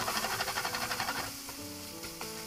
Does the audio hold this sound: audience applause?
no